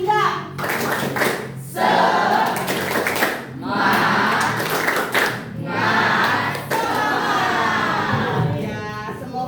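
A group claps a fast rhythmic pattern in bursts, with short pauses between rounds, loud and close, with children's voices mixed in.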